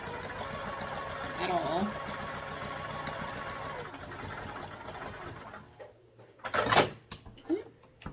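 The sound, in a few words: sewing machine stitching black webbing with black thread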